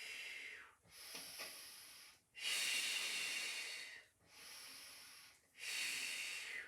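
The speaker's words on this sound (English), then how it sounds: "breathing out." Slow, steady breaths during a Pilates exercise, each long airy exhale rising and fading in turn, with four close, soft-edged breaths across the span and no talking.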